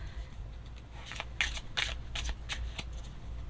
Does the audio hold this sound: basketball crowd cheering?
no